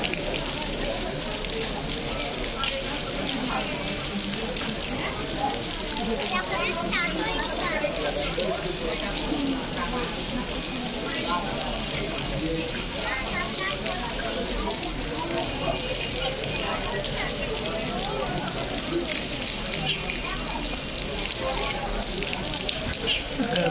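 Heavy downpour hisses and patters without a break for the whole stretch at a Bangladesh–India border crossing, with faint voices of passengers mixed into the wash of rain.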